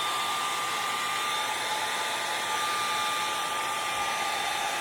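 A hair dryer blowing steadily on a freshly painted doorhanger, a continuous close whooshing roar with an even tone and no pauses or voices.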